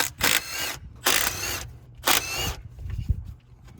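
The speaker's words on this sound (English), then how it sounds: "Now we're going to take off these 5/8 bolts." A ratchet wrench loosens 5/8 bolts on the harmonic balancer of a 1994–96 Cadillac Fleetwood LT1, heard as three short bursts of close, rapid clicking with quieter mechanical shuffling between them.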